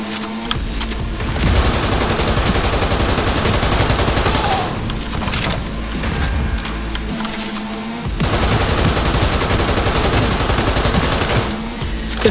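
Sustained rapid gunfire rattles through a Cyberpunk 2077 firefight, loud and dense, with short pauses between long automatic bursts.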